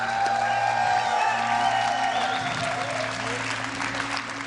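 BlizzCon arena crowd applauding the World of Warcraft team Complexity Red, a dense burst of clapping with scattered cheers and whoops under a commentator's amplified voice and a steady electronic hum.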